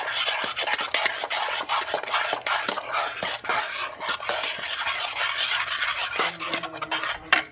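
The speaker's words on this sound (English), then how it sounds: "So now I'm gonna mix the cornmeal." Cornmeal mixed with cold water being stirred in a bowl for porridge: a steady scraping, rasping stir with repeated utensil strokes and light clinks, close and continuous, no talk.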